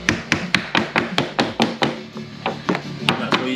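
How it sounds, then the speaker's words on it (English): A glazing hammer taps window glazing beads into place around a glass pane, about a dozen sharp, close, evenly spaced knocks with a brief pause midway, no talking. "Use a simple glazing hammer so you don't scratch up the beads in the windows or the glass"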